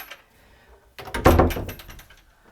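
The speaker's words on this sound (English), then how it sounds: "it would be fun when you closed the Harman Hinge doors" Harman hinge doors closing in a colorful New York home, a single solid thunk with a brief rattle after a quiet moment.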